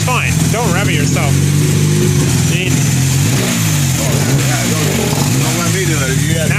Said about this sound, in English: Now that the engine's hot, it doesn't rev as good as it was.